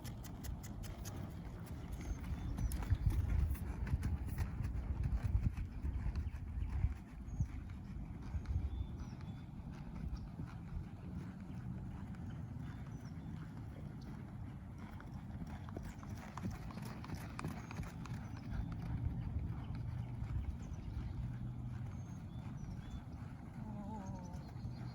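Hooves clip-clop steadily as a horse is ridden during a horsemanship demonstration, a continuous rhythmic patter close by with faint background talk.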